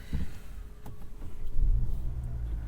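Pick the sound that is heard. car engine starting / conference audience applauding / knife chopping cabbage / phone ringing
car engine starting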